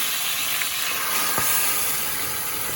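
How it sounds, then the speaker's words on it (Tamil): Ground fish curry paste spattering in a hot pan, a steady close hiss and sizzle with a few faint pops scattered through it, continuous and without talk. "இல்லாடி பாருங்க இந்த மாதிரி தெரிச்சு கொண்டே இருக்கும்"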